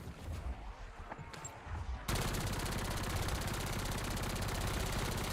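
Heavy-recoil automatic gunfire in Black Ops 7: a few scattered shots, then an unbroken rapid stream of loud, fast rounds that holds steady to the end.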